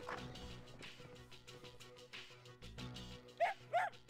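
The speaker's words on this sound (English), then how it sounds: "Woof woof." Short dog barks in the Persona 3 video game, two distinct yips near the end over a steady musical background, with no talking.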